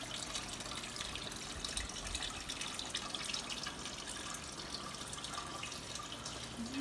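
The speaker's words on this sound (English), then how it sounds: "And here is one of our little garden fountains." A small garden fountain trickles and splashes softly and continuously, faint and steady, heard indoors in a decor showroom.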